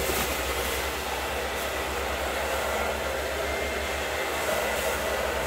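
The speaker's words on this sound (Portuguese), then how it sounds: "Peguei o secador da mulher, ar quente, né?" A hair dryer blows hot air steadily into a garbage-bag balloon, a constant loud whooshing drone with a low hum that holds unbroken with no talk.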